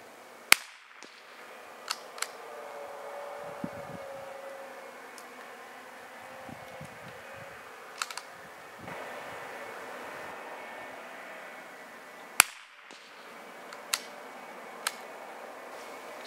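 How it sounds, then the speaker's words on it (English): Aguila .22 subsonic rifle shots fired at a shooting bench and heard from about 15 yards away: sharp, faint cracks spaced several seconds apart over a quiet outdoor background, with a low drone passing in between. "this is just an attempt to see how the rifle sounds from a little bit further back"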